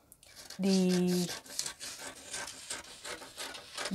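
Scissors cut through fabric corset pattern pieces at close range, a short tonal squeak up front followed by steady rasping, scraping snips.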